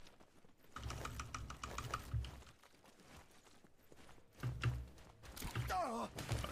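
Footsteps overhead in Naraka: Bladepoint sound as muffled, thudding steps in irregular clusters, with a brief swooping effect near the end and a voice speaking faintly in the background.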